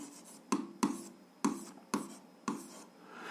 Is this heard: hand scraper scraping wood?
no